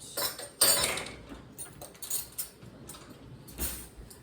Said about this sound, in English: Let's get some fresh spoons out.